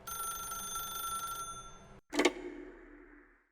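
An old-style telephone bell rings steadily in The Stanley Parable, a bright continuous trill that stops suddenly, followed by a sharp clack of the receiver being picked up.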